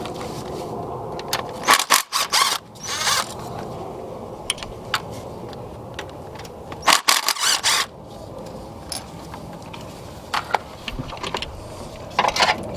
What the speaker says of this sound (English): So I'm going to loosen both these up, and then it will take a little bit of force to get those to come off